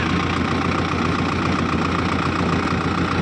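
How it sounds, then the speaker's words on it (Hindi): A Powertrac Euro 60 tractor engine runs in gear with both lift levers down, a steady, loud, close diesel drone with an even knocking throb throughout, no voices. "अभी जब पहली बार चला रहा हूँ तो दोनों लीवर डाउन करके ट्रैक्टर सही चला रहा है"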